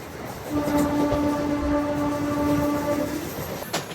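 The Nellore to Vijayawada MEMU Express train, number 17259, runs with a steady rumble while a long, loud horn blast sounds for about three seconds before cutting off.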